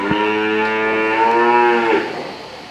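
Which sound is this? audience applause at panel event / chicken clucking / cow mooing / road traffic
cow mooing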